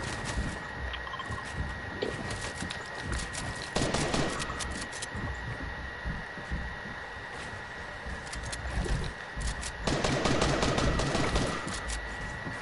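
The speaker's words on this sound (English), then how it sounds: "They're shooting other people" Distant rapid gunfire in a Fortnite match, continuous bursts and rattling volleys with a few louder swells, steady throughout against a busy game background.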